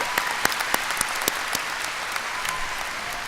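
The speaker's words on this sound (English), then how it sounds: "Give them another round of applause." Graduating seniors at Brookland High School's ceremony draw a round of applause from the audience, a moderate steady patter of many hands with a few sharper nearby claps over about three seconds.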